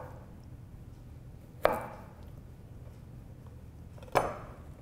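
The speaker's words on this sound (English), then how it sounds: "And I'm going to cut it into 1/8-inch slices." A knife cuts a squared-off vegetable into 1/8-inch slices, two distinct sharp chops against a cutting board about two and a half seconds apart, over a faint background hum.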